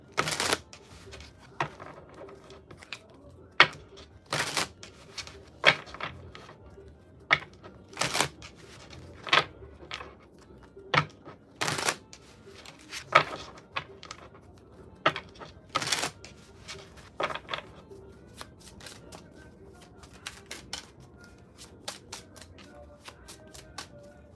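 A deck of tarot cards shuffled by hand, with repeated crisp riffling bursts and flicks at an irregular pace over quiet room tone, close to the listener and without speech.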